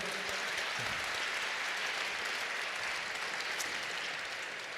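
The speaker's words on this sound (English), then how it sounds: "So another round of applause for them." Steady crowd applause at the ICPC World Finals closing ceremony for a competing team, dense sustained clapping filling the hall with no break.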